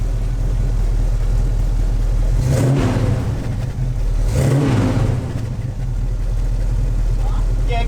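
A car engine idles low, then revs up twice in short bursts before settling back to a steady rumble.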